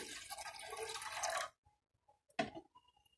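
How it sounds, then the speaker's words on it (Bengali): Water poured into a pan to start sugar syrup, a short splashing pour that stops abruptly, then a few drips and a brief clatter, close and fairly quiet. "এখানে প্রথমে আমি জল দিয়ে দিচ্ছি।"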